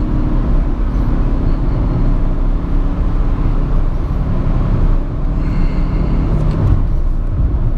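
A Fiat Mobi Evo Way On 1.0 Flex 2017 small car engine accelerating toward 120 km/h on the road: a steady, loud drone blended with wind and tyre roar, continuous throughout.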